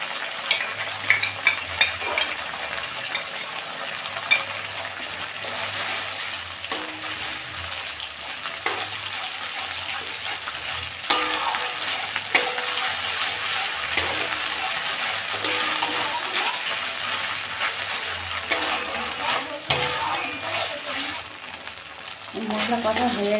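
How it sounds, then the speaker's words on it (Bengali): Ginger-garlic paste and green chili paste fry in oil for a Bengali-style prawn dish. A close, continuous sizzle fills the clip, and utensils clink and scrape against the pan repeatedly as the spices are stirred. "মশলা কষা হয়ে গেছে, এই তেল ছেড়ে দিয়েছে"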